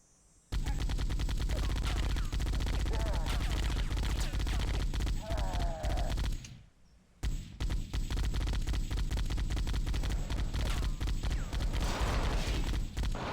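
Dense, continuous gunfire fills a match of Halo: Combat Evolved, rapid bursts and single shots stacking into a near-constant barrage with a brief lull midway before the shooting resumes.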